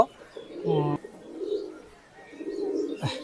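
Pigeons, Oman and KTM Teddy breeds kept in a loft, give soft, throaty coos in several short bursts, close by over a quiet background.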